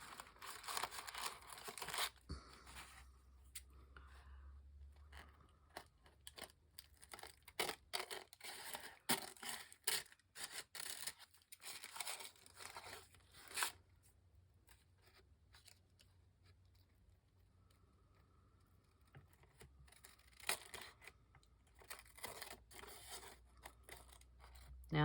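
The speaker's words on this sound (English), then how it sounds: "Now I'm choosing to cut around these edges, but you could also just tear that off" Scissors snip around the edges of a sheet of paper in short close bursts with rustling and crinkling between cuts, then quieter pauses.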